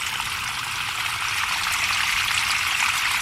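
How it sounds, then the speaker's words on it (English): Surface water running into a field drain tile makes a steady, continuous trickling hiss with no pauses. "So all my surface water now is running right here."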